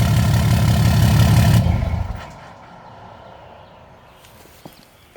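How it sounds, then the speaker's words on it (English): Cummins 6.7 diesel with a 4-inch turbo-back exhaust and MBRP muffler delete, its loud broad engine roar dropping off sharply after about a second and a half as the turbo spools down to a quiet idle. "Definitely hear the turbo spool down"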